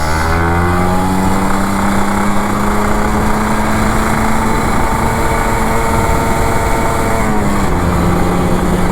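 Close, sustained revving from a Kawasaki Ninja RR 150 two-stroke motorcycle, a loud buzzing engine note holding high for several seconds, dipping briefly near the end and then climbing again, with nobody speaking.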